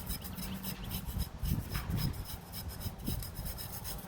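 A hunting knife's edge is brushed to strip off a burr. Rapid raspy scrubbing strokes go back and forth, close and fairly loud, with no voices.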